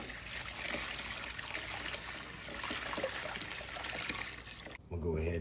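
Steady trickling and sloshing water as a Taylor RC 40GT model car part is submerged in a dye mix, continuous and close, with a brief shift to a quieter pour near the end.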